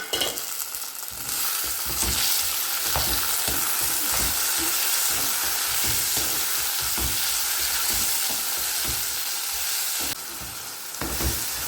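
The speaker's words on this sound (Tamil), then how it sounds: "இதுக்கப்புறம் நம்ம தக்காளி 2 மீடியம் சைஸ் தக்காளி கட் பண்ணி வச்சுருக்கோம்ல, அதையும் சேர்த்து நல்லா வதக்கிக்கலாம்" Tomatoes and pirandai sauté in hot oil in a pan for a pirandai kuzhambu, with loud, continuous sizzling and frying close up and repeated scraping stirs throughout.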